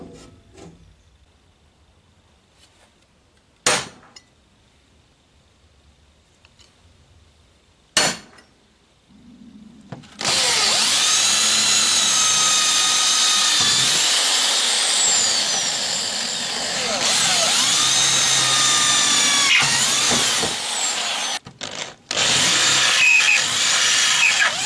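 A power drill bores holes to fix a metal sheet inside a Citroën Traction 11B, with two short bursts followed by a long, loud sustained whine that pauses briefly and resumes.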